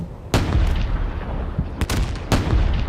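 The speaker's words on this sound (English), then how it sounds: "we've got another artillery attack over there" Artillery fire and explosions in the Space Engineers video game. Three sharp, loud booms land at irregular intervals, each with a rumbling tail, over a steady low battle drone. No one speaks.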